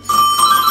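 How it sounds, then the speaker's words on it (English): A phone rings indoors in a home basement with a short, bright electronic ringtone burst, loud and near, with no one speaking over it. "and there's my phone ringing"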